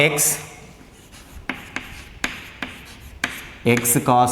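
Someone writes a calculus differentiation equation by hand, producing short, crisp pen strokes in irregular bursts, close and clear, with a voice speaking briefly at the start and again near the end.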